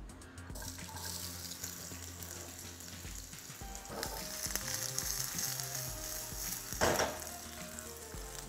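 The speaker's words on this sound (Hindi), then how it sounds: "लाइटली सौते करना है, सब्जी को पूरा नहीं पकाना, लेकिन क्योंकि ये अवन में नहीं पैन में पक रही है" Vegetables sautéing lightly in oil in a pan, a continuous close sizzle with stirring scrapes and a louder splash near the end.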